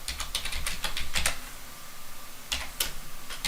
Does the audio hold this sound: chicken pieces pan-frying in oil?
no